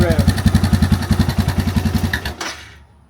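A stock Suzuki DR650 dual-sport motorcycle with its factory exhaust, warmed up, revved in a steady run of about twenty quick throttle blips, loud and close, before the engine cuts off and the sound fades into silence.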